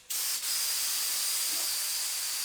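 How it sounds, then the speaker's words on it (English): A spray nozzle starts abruptly and releases a steady, loud hiss of protective coating onto an Ultraviolette F77 Mach 2 electric motorcycle, continuing without pause, close by. "applying 2 coats to make as much as protection we can from every single angle by spraying it"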